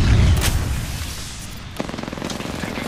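Gunfire in the shooter game Apex Legends: a heavy boom opens, then after a pause a rapid string of automatic shots rattles off, close and fairly loud.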